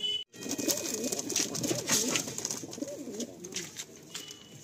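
Pigeons sold as high flyers coo close by in repeated rolling, wavering calls, with a brief thump near the start and light background noise.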